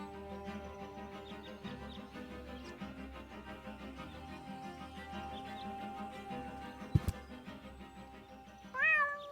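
A cat meows in the Deponia video game, stuck up a tree and afraid to come down; soft background music plays throughout, with one clear, rising meow near the end.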